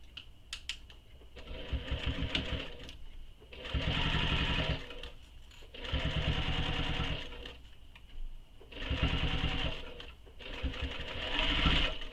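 A sewing machine top stitches the top edge of a handbag, its needle whirring in rapid, steady runs of several seconds separated by short pauses.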